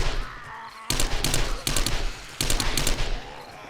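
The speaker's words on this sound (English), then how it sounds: "gonna try and pull out the SMG a little bit. One of those gotta be careful of my burst fire there" An SMG in the video game 7 Days to Die fires three loud, close bursts of rapid shots with short pauses between them over a low game background.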